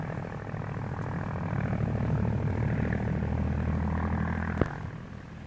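A steady propeller-plane drone from a 1941 aviation film hums continuously, loud and close, with a brief click near the end.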